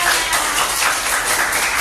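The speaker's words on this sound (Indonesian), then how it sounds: "Beri tepuk tangan yang betul." A class of fourth-grade pupils claps together after a correct answer in an Islamic studies lesson, a dense, steady patter of many hands close by that fills the short moment without pause.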